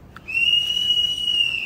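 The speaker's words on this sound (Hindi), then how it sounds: "सरेआम सीटियां मार रहा।" A guard gives one sharp, high whistle held steadily for over a second, loud and close against quiet surroundings.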